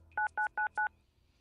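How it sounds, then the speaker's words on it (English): Four short, evenly spaced telephone keypad dialing tones beep in quick succession, clear and close, followed by quiet. "Just dial 3s."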